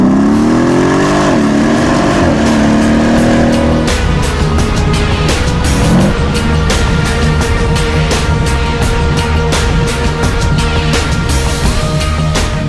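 Mercedes-AMG 5.5-liter biturbo V8 with direct injection running loud and close, its pitch rising in revs before settling into a steady, dense engine roar with sharp ticking pulses.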